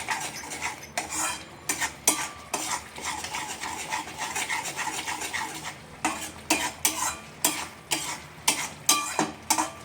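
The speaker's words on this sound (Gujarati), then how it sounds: "અહીંયા ડુંગળીની પેસ્ટ જો સતળાઈ રહી છે, એને પણ 2 મિનિટ સાતળવાની" Onion paste sautéing in a pan, stirred with a metal spoon that scrapes and clinks steadily against the pan in quick repeated strokes under a faint sizzle.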